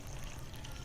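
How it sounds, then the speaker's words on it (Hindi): Hot water poured into a food packet, a brief soft splashing trickle heard alone at close range for under a second. "पहले इसके अंदर गर्म पानी डाल देते हैं"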